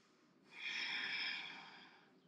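A single long, steady exhale of breath through the nose during a yoga pose, close and soft, swelling and then fading over about two seconds in an otherwise quiet room.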